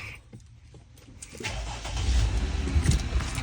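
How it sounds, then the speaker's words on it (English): A 2020 Jeep Gladiator Rubicon pickup with starting trouble and flickering electrical issues cranks and fires up, settling into a low, steady rumbling idle close by after a quiet start. "Truck is on, guys."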